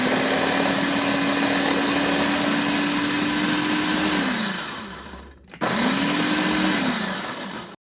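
An electric food chopper fitted with two blades whirs at a steady high motor pitch, runs for about four seconds, winds down, then starts again for a shorter second run; loud and close, no talking.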